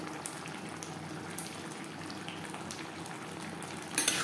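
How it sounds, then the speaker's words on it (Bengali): A pot of fish head with vegetables simmers with a soft, continuous bubbling, ending in a brief louder splash or stir. "সবজির সাথে মাছের মাথা বেশ ভালো করে সেদ্ধ হয়ে গেছে"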